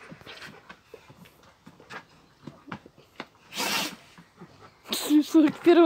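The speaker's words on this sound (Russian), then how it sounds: "Как чихает алабай." A young female Alabai, a Central Asian Shepherd dog, gives a sharp, close, breathy sneeze, then another spray-like burst, among quiet rustling and people talking nearby.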